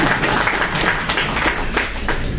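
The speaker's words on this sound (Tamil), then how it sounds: "இதெல்லாம் கைதட்டணுமே" Audience applause at a book launch, a steady wash of many hands clapping together in a hall, continuous and fairly loud throughout with no voices over it.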